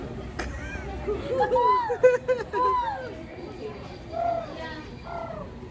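A person imitates a pigeon's cooing call in a busy indoor setting, producing several rounded, warbling coos amid chatter and background babble.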